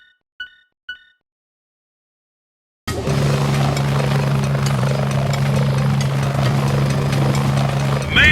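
A helicopter in the PSP game Pursuit Force starts after a few short electronic beeps and silence, its steady rotor and engine drone loud and constant to the end.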